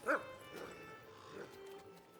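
A dog in an Arthurian role-playing video game gives a quick yip-like bark at the start, then fades into faint ambient game sound for the rest.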